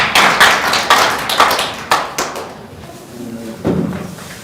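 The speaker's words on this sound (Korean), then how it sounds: "다시 한번 큰 박수로." Audience applause at a policy forum in a National Assembly seminar room, a short burst of clapping from a seated crowd, fairly loud, that fades out within a few seconds.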